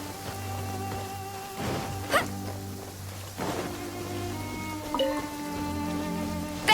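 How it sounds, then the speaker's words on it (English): Steady rain falls in the Genshin Impact game world, a continuous wash of patter and drips layered over sustained musical tones, with a few sharper splashy hits along the way. "It's raining again. This will hinder our vision."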